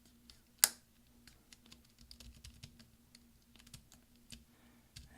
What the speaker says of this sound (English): just kind of push down and roll your fingers. You'll hear lots of snaps.